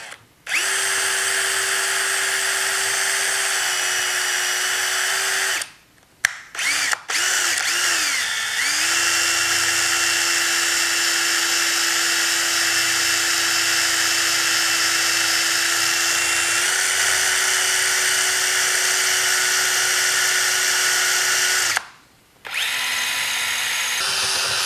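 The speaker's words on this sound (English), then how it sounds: "And we'll actually switch to drill." Electric drill whining steadily as it bores through plastic during assembly of a TrueTrac track saw, a loud continuous motor tone held for long runs, with short pauses and speed changes as the bit breaks through.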